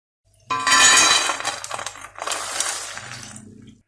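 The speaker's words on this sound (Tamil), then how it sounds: "இப்போ இதை இந்த எண்ணெயிலேருந்து வடிகட்டி எடுக்கலாம்" Crispy fried corn scooped from hot oil with a strainer: two short bursts of clattering, rattling scrapes against the pan, the first louder, then fading to quiet.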